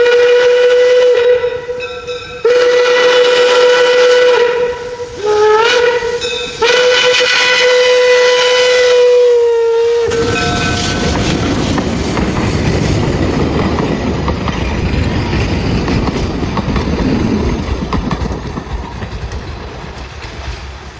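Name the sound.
1800s vintage steam train running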